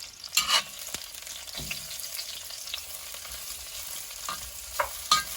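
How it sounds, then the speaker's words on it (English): Garlic and ginger frying in hot oil with a steady low sizzle, broken by a few sharp clinks and stirring scrapes, close by and with no talking. "And you're going to fry it for about 20 seconds."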